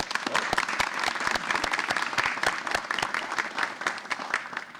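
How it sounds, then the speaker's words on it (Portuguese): A lively audience at a poetry podcast event gives a steady, dense round of applause, many hands clapping close and loud throughout, with a faint crowd murmur underneath. "Uma salva de palmas pro Vaz aí"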